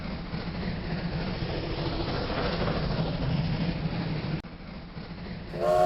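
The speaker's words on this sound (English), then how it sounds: "a massive Pennsylvania Railroad Q2-4464 with some serious tonnage at the drawbar rolls by the passenger train" A model Pennsylvania Railroad Q2 steam locomotive, number 4464, hauling a heavy freight train rolls past a passenger train on a layout, a steady close rumble and clatter that cuts off abruptly near the end.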